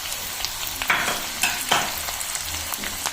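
Capsicum fries in hot oil for pav bhaji, a steady close sizzle broken by several louder scraping stir strokes, with no talking.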